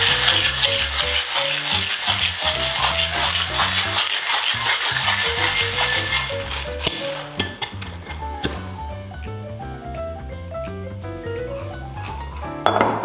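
Ice rattles hard inside a cocktail shaker as a Long Island Iced Tea is mixed. The loud, rapid, continuous clatter goes on for several seconds over background music.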